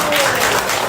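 A lecture audience at a party members' summer academy claps together, a brief dense burst of applause close by that fills the whole moment.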